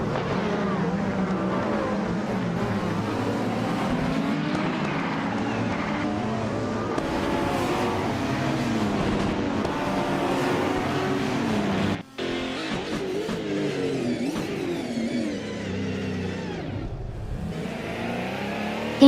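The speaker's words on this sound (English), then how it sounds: "Marty Freeze is climbing fast, now in 22nd place after overtaking 3 cars" Race cars in a racing video game whine steadily at high revs, with layered engine tones shifting pitch as cars accelerate and pass, continuous and fairly loud throughout with a brief dip partway.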